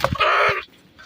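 Large backyard chickens cluck in a short loud burst of squawking close by, followed by quieter rustling.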